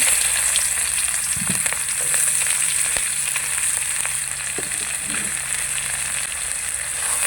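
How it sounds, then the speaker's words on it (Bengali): Chopped onion fries in hot oil with tempering spices and dried red chilli, giving a strong, steady sizzle with occasional soft stirring clinks throughout. "ফোড়নের সঙ্গে পেঁয়াজটাকে একটু লাল লাল করে ভেজে নেবো"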